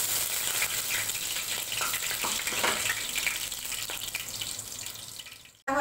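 Whole garam masala spices hit hot oil in a home kitchen pan, giving a loud, continuous broadband sizzle that holds steady for several seconds before cutting off abruptly near the end.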